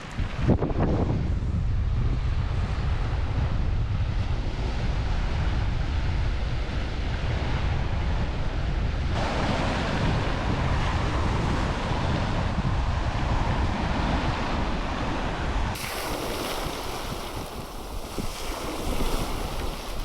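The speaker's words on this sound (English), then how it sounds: "it's actually really windy down here" Strong wind roars and buffets loudly and continuously near the Crinan Canal in Scotland while sailing, with the rush of waves underneath; no voices.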